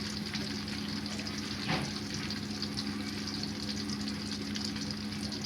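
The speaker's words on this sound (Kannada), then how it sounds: "ಈ ರೀತಿಯಾಗಿ ಆರೋಗ್ಯಕರವಾಗಿ ಅದು ತೆಂಗಿನ ಎಣ್ಣೆಯಲ್ಲೇ ಕರಿಯೋದು" Chips fry in coconut oil on a stove, producing a steady, dense sizzle that hisses evenly and fairly loud for the whole stretch, with no talking over it.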